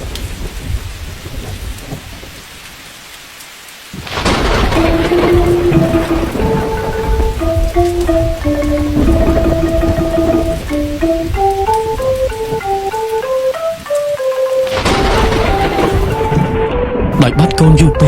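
Heavy rain with thunder on a stormy night, a steady broadband downpour running throughout while a melodic music score plays over the middle section; no one speaks.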